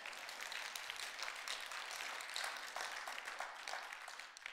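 A church congregation claps during a sermon, a steady, fairly faint wash of many hands applauding together for several seconds.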